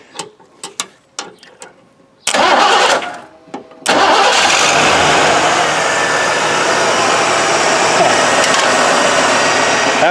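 A 1988 Lincoln Town Car starting up for the first time: a few short cranking bursts, then the engine catches and settles into a loud, steady idle close by.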